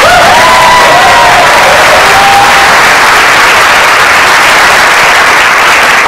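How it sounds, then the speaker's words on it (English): Loud, sustained applause from a large town hall audience fills the space, with dense steady clapping and a few faint cheers. "Give your president a big round of applause."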